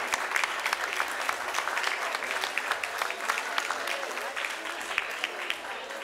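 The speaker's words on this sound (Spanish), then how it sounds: "¡Fuerte, fuerte ese aplauso!" Audience at an outdoor folk music festival in Entre Ríos, Argentina, applauds steadily and densely for a band, a continuous crackle of many hands that holds at an even, fairly loud level throughout.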